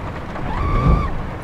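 Rain falls in a racing video game as a loud, dense wash with deep rumbling underneath and a thin rising whine passing through. It is heard alone, without talk.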